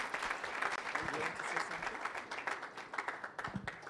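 A round of applause from the audience at a fertilizer data organization's rebranding and website launch, steady, fairly faint clapping throughout, with some voices mixed in.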